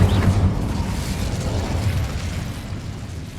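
A Bombarda spell blast in Hogwarts Legacy on PS5 lands as a loud, deep boom that rumbles and slowly fades over several seconds, with no voices.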